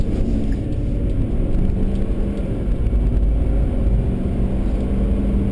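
A 2011 Ford F350 King Ranch diesel pickup at full throttle, heard from inside the cab as a loud, steady low engine drone and road rumble that holds evenly throughout, with no talking.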